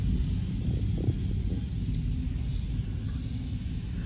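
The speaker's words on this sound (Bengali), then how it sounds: "দেখো পুরো মেঘ ডাকছে গম গম করে" Low thunder rumbling during rain, a continuous deep roll that stays steady and fairly loud, with no distinct claps and no voices.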